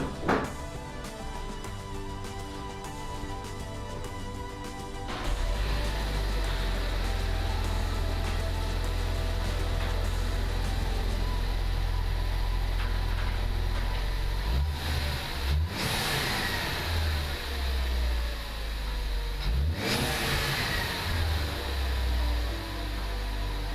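A Ford Focus ST with a GFB DVX blow-off valve starts after a short crank, settling into a loud, steady idle with two brief revs and dips later on, recorded close up with no voices.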